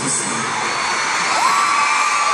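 A concert crowd in a Philadelphia arena cheers and whoops loudly and continuously, a dense roar of many voices with a rising shrill scream near the end.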